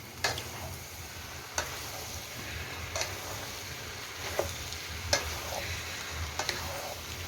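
Seasoned lemongrass and chili stir-fry in a pan for bún Huế, a steady sizzle running throughout, broken every second or so by sharp spatula scrapes and clinks, with no voices.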